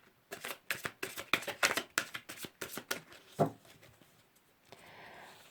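Cards for a reading are handled and laid out on a table in a quick series of close, crisp snaps and slaps, followed by a single soft thud and then a faint shuffle at the end.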